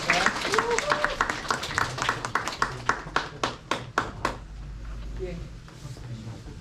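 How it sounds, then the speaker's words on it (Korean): Applause from an audience at an environmental talk concert with high school students, a burst of clapping that thins into a few separate claps before fading, with talk and crowd murmur around it. "이야기를 나눠주신 최영수 교수님께 다시 한번 큰 박수 부탁드리겠습니다"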